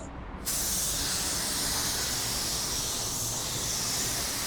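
A paint spray gun set to 2 bar lays a first coat on a panel, held close: a steady, loud broadband hiss of atomized spray that starts abruptly after a brief pause and runs continuously.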